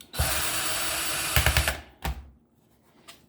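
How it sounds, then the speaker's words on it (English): A power screwdriver whirs steadily as screws come out of a Samsung laptop's back cover, then stops, followed by a short burst and a faint final click, close and loud. "Yes, these screws are coming out"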